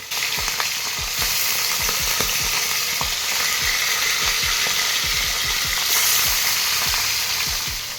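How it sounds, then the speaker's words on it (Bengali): Hilsa fish pieces fry in mustard oil in a wok, a loud continuous sizzle punctuated by frequent sharp pops and spatters, close up with no talking. "তেল দিয়ে মাছগুলো এক এক করে উল্টে পাল্টে ভেজে নিতে হবে।"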